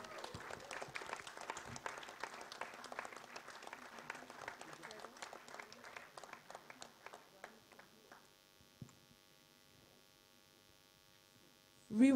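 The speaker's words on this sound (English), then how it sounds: "can we have a round of applause for all of them?" An audience at a film trailer launch event applauds steadily for several seconds, then thins out to scattered claps over a background hum, ending with a louder burst at the close.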